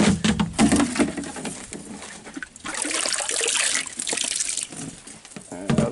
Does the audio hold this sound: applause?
no